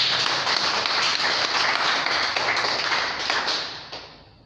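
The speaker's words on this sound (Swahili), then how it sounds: "Nipigie makofi." A church congregation applauding, dense steady clapping from many hands filling the room at full volume before tapering off over the final second.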